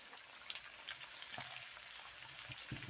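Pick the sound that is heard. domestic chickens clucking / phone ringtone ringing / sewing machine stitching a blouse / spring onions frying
spring onions frying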